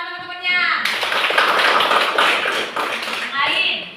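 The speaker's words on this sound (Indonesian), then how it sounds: "Oke, dua tepuk tangan teman-temannya." Students in a classroom clap in a dense, close burst lasting a few seconds. A voice speaks just before the clapping and again as it fades.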